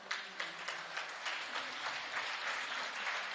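Applause from a group at a meditation and forgiveness session, a steady wash of clapping at moderate distance, fairly soft and even throughout with no voices over it.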